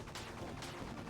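Rapid gunfire from a weapon in the 2D action game Bleed, two dense bursts of shots over a steady loud bed of game noise, with no voices.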